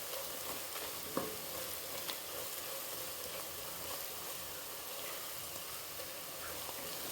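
Onion, ginger and garlic sauté slowly in oil over a low flame for vegetable rice, producing a soft continuous sizzle with occasional spoon scrapes and stirring clicks, close by and without talk.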